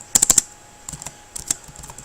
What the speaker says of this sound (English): I can finish up typing the day's plans.